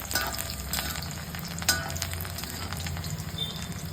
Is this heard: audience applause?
no